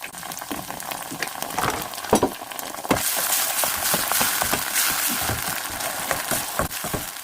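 Indo-Chinese spaghetti with tomato sauce is stir-fried in a pan, giving a steady sizzle under repeated scraping and stirring clatter of a spoon, close and moderately loud with no voices.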